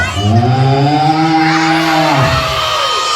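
A cow gives one long, loud, low moo close by, sliding down in pitch as it trails off.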